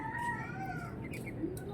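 Chickens cluck and murmur in a noisy yard, with a steady low rumble of background noise throughout.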